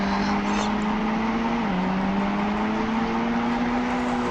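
Engine of a G-Wagon in a Jurassic Park video game, a steady droning hum that dips once briefly and then climbs again, running continuously with no break.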